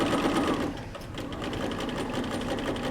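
A sewing machine runs a long basting stitch along fabric, its fast steady whir continuing close and loud from start to finish with one slight dip in pace.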